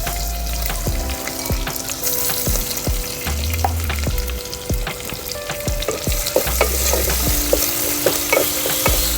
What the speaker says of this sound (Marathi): आता ह्याच्यामध्ये आपण जे आलं आणि लसणाची पेस्ट केली आहे ती घालून घ्यायची आहे